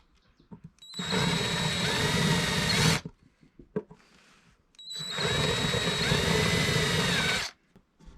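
A power drill whirs in two bursts of about two seconds each, cutting a countersink, separated by a short pause with small clicks and handling noises.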